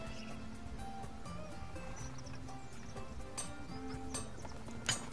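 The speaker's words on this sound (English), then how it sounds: "there's a horse right near me" Hooves of a horse in the video game ArcheAge clip-clop steadily with an occasional whinny-like snort, set against a busy bed of game music and ambient tones.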